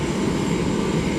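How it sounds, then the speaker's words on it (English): DHL Boeing 777 taxiing at East Midlands Airport, a dense, steady jet engine roar, loud and unbroken for the whole short stretch. "We're also taxiing up, should be DHL 777."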